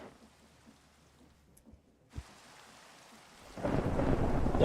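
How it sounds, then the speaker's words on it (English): A thunderstorm with a sharp thunder crack partway through, followed by a swelling roar of heavy rain that grows loud toward the end, with no voices. "Thunderstorm."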